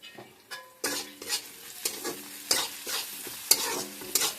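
Vegetables seasoned with salt and turmeric stir-fried in a pan for egg chowmein: a close, busy sizzle broken by rapid, rhythmic spatula scrapes and taps, roughly a dozen quick strokes, with no talking.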